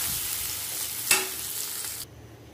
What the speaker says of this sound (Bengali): কাঁচা কলাগুলো একটু হালকা করে ভেজে নিব